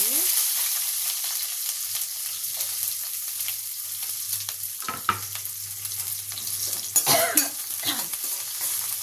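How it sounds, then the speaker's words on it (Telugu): Sliced onion sizzles in hot oil with mustard seeds and cumin for an Indian dish, a steady close frying hiss with scattered stirring scrapes and a louder burst of clatter near the end; no one speaks. "ఉల్లిపాయ ఫ్రై అవ్వాలి అలాగే అట్టే కూడా ఫ్రై అవుతుంది చూసారా ఇలా ఫ్రై అవ్వాలి మంచిగా"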